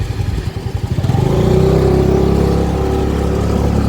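A scooter engine while riding on the roads of Porbandar: a steady, loud mid-pitched drone that starts with rapid pulsing putters and smooths into a continuous hum as it picks up speed, with no voices.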